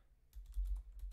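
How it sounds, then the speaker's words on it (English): A brief burst of close, quick keystrokes on a computer keyboard, a few soft clicks in rapid succession, with no talk. "I'm going to type in"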